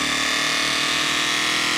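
An electronic screech note with a rising-pitch effect from a produced song, a loud, dense, harsh sustained tone that holds steadily through the short span with no voices.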